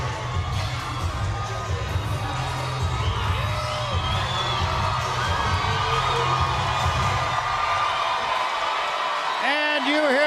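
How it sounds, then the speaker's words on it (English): A boxing crowd in Detroit roars and cheers throughout a women's title fight between Claressa Shields and Hanna Gabriels, a dense, continuous wall of arena noise with a commentator talking over it. "you hear the crowd begin to react to one of their own"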